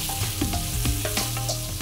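Shelled, deveined prawns sizzle steadily in a hot pan, heard close and continuous with a few soft stirring sounds in a short stretch.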